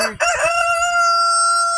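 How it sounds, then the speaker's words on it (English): A rooster crows loudly and close, a long sustained call holding steady after a brief rough start, with faint clucking beneath. "And look at all those other chickens."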